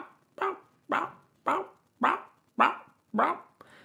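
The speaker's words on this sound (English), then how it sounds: "he just starts barking" A dog barks six times in an even, insistent rhythm, each bark sharp and close, with short pauses between them.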